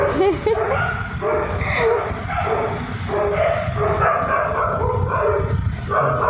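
Street dogs in a lane fight over territory, a dense tangle of barking, yips and whimpers running nonstop throughout, loud and close, with a person talking over the commotion.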